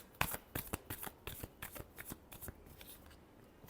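Tarot cards are shuffled by hand in a rapid run of crisp, close clicks and flicks that thin out toward the end; the setting is quiet.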